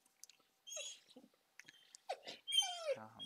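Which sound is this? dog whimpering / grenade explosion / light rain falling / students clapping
dog whimpering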